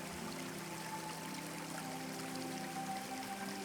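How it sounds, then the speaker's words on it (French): A small waterfall and flowing river water form a steady, even rushing wash in an immersive audio role-playing effect, continuous and fairly soft with no talk. "Et au bout de quelques heures, elle rejoint une petite cascade."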